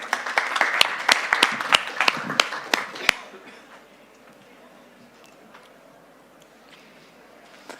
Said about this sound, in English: A very big last applause.